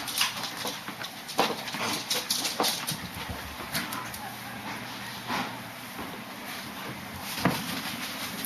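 A dog whimpers indoors in a house, soft high whines coming in short intermittent bursts against a quiet room background.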